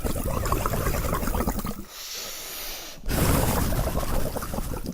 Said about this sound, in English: Now I'm going to try to add carbon dioxide using my breath.